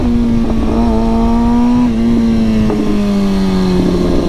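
A car with a new exhaust pulls hard through its gears: a loud, close, droning engine note climbs, drops at each quick shift with a short burble, and climbs again, with no talk.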